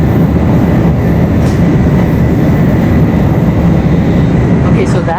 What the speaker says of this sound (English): that's why it's called a bullet train